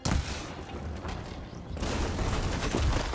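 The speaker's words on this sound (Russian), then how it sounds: "а вот сбоку вот эти бревна вылетали, прям как будто выстреливали ими" Logs bursting out of a log stack in the game Horizon Forbidden West, a quick flurry of sharp, gunshot-like bangs and rumbling crashes that swells louder near the end.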